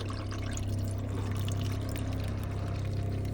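A motorhome cassette toilet flushes at the press of a blue button, a steady close-up whir of a small pump pushing fluid around the bowl with a continuous pouring, trickling wash throughout.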